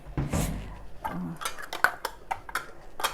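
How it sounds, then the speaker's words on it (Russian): Glass jars clink and knock against each other and a hard surface in a quick, irregular series of close, bright taps. "Тем временем мы быстро подготовим банки."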